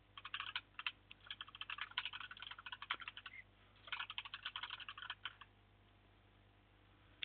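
Notes are typed on a computer keyboard in quick, quiet bursts of clicking keystrokes, pausing briefly in the middle and then resuming, with no voices.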